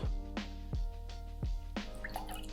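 Olive brine and simple syrup are poured for a cocktail, giving a few short, close liquid drips and glugs in a quiet room.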